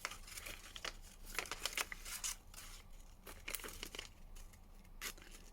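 Scissors carefully cutting appliqué fabric for a spring block, soft close snips and crinkly rustles in irregular clusters, fairly faint.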